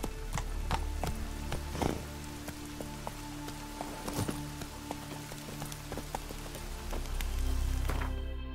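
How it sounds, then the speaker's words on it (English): Heavy rain pours in The Witcher 3 video game, a constant patter broken by sharp drips and clip-clopping hoof-like knocks, with faint tonal game ambience running underneath. "raining fucking buckets"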